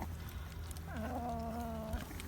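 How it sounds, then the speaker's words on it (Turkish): A short, high-pitched meow with a rising then falling tone, fairly quiet against a steady background hum, sounding like a small kitten. "Nasıl ses çıkarıyor miyav miyav."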